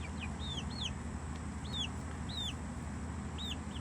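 Chickens in a coop built from scrap cattle panels give repeated short, close clucks and chirps over a steady low background rumble, with no talk.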